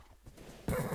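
A video game horse that has been set on fire whinnies in a short, loud burst near the end of a brief, quiet moment, with faint game ambience before it and no speech.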